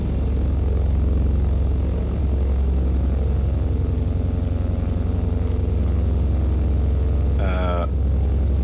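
A propeller airplane engine drones in flight in Microsoft Flight Simulator 2020, a loud, steady, low hum that holds constant throughout, with a brief electronic tone near the end.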